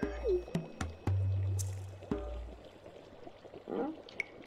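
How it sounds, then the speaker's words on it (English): Bubbling cauldron sound effect from the farming game Stardew Valley: a few liquid glugs and pops with a sustained low burble, followed by scattered gentle drips and blips, fairly quiet with no voices. "My cauldron is bubbling with the ingredients from the forest."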